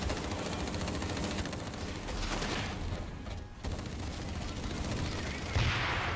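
Turret gunfire in the first-person shooter Blacklight Retribution, rapid sustained bursts of automatic fire with booming impacts, loud and continuous, briefly dipping before resuming.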